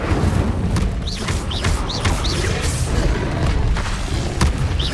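Repeated Incendio fire spell casts in Hogwarts Legacy, a string of loud whooshing, booming bursts with rising whistle-like zips, coming every half second or so over constant combat noise.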